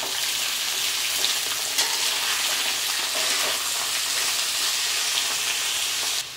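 Half a kilo of ivy gourd (dondakaya) fries in a pan with a continuous, dense, close sizzle and faint stirring crackles, no voices, the hiss dropping slightly right at the end.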